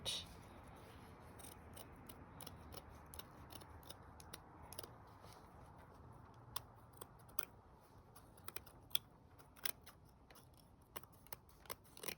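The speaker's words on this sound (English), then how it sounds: "you get some scissors, and you cut this out" Scissors snipping through paper nearby, a quiet run of sharp crisp cuts in irregular bursts over a soft background hiss.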